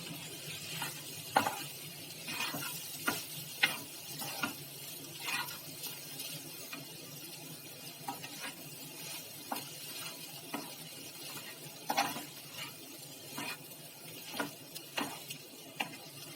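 Bell pepper stuffing mixture is stirred in a pan, a series of irregular close scraping and tapping strokes of a spoon against metal over a faint low sizzle, with no talking.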